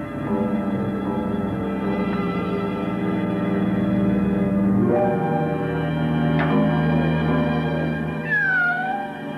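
A cat meows several times in a horror film scene, the cries rising and falling over a dense, sustained backdrop of music and ambient sound, with a sharper, higher call near the end.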